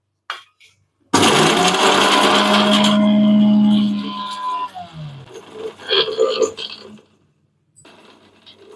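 A mixer grinder powders whole spices such as star anise and mace, a loud steady whir of about three seconds that winds down, followed by rattling and tapping of the jar.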